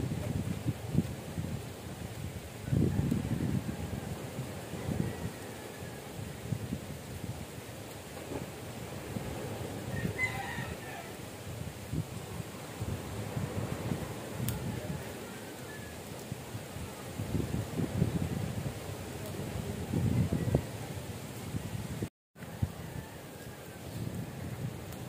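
Strong wind blowing outdoors at a barrio festivity, a steady low rumbling roar with gusting surges into the microphone and faint distant sounds, sustained for the whole stretch.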